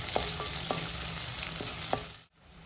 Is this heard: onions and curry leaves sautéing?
yes